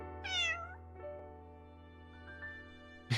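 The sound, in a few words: cat meowing in the video game Path to Nowhere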